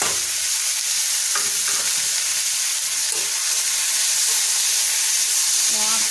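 Chopped banana stem coated in salt and turmeric sizzles steadily in hot oil with five-spice seeds and bay leaf, a loud continuous frying hiss with occasional stirring scrapes and no talking.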